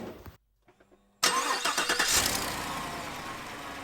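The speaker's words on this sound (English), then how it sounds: "I don't want to be underneath the vehicle whenever I start it" A 2019 Cadillac Escalade, back after a transmission replacement, cranks briefly and fires up loudly, then settles into a steady, close idle that continues to the end.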